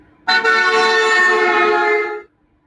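One loud, sustained horn blast from a passing car, close and steady for about two seconds before cutting off abruptly.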